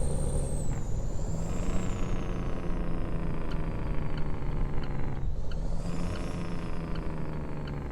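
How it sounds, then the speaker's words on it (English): A Jake brake on an International 9900i truck in a driving game mod, heard from inside the cab as a steady, loud, low engine rumble with a brief air-brake hiss near the start and another around the five-second mark. "Test out the Jake brake."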